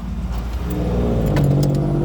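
A key jangles in the ignition of a Mitsubishi Adventure, a light metallic rattle close by over a loud, steady low engine hum, with no talking.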